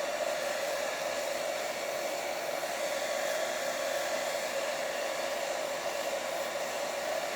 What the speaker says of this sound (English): So excuse the noise of the hairdryer.